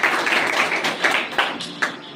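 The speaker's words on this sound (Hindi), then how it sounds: "जोरदार तालियां" Audience applause at a primary school building inauguration event, a fairly sparse patter of hands clapping with a few sharper individual claps standing out.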